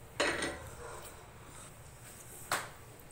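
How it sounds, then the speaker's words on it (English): Cooked pasta is dropped into a pot of meatballs and tomato sauce, giving two short metallic clatters a couple of seconds apart, close and moderately loud, with quiet pot noise between. "we will now put the pasta in here"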